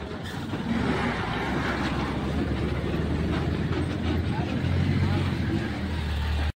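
A vehicle comes up along a roadside near a farmhouse at Pali, its engine rumbling loud and close as a steady broad roar with continuous road noise throughout.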